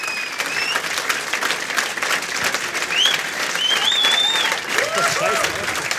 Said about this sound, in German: Klatscht weiter, bis das Outro kommt